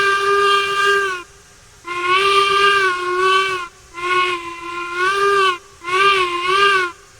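Steam locomotive whistle in the Railroads Online video game, sounding in four long blasts with short gaps between them, loud and close, with a hissy, breathy edge.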